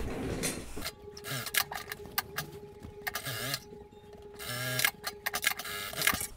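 An industrial straight-stitch sewing machine runs in quick bursts while stitching blazer interfacing, with a whirring motor hum, rapid needle ticking and brief stops between runs, close up with faint background talk.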